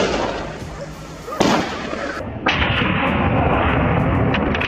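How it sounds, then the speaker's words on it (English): Loud sharp blasts of gunfire on a California farm field, close and harsh, followed by a sustained rumbling roar of a herd of feral boars stampeding. "A gunshot rang out,"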